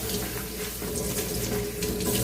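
Taro (alu) leaves washed under a running kitchen tap, a steady close splashing of water with no talking.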